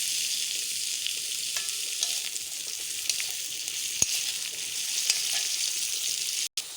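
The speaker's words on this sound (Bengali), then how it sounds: "পেঁয়াজটাকে আমি ভালো করে লাল করে ভেজে নিচ্ছি।" Chopped onions fry in hot oil in a wok after garlic for red lentil khichuri, a steady close sizzle with occasional soft clicks and a brief gap near the end.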